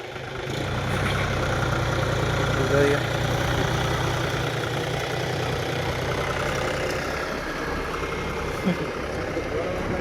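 A John Deere tractor engine runs at a steady low idle, a continuous mid-loud rumble with a faint thump near the end, heard right after the tractor has been pulled free of mud.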